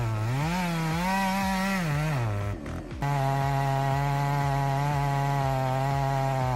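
A chainsaw roars close and steady while cutting a tree, its pitch dipping under load and then climbing again, with a brief drop in sound near the middle.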